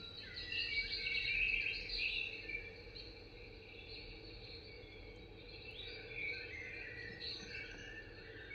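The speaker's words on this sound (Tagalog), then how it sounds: "At ito naman ngayon, yung mga ibon." Birds chirp and trill in high bursts against a steady insect-like buzz, the calls strongest early on and returning faintly later, with no voices.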